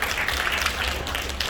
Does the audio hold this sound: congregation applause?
yes